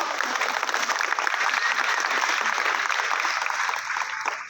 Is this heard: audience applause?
yes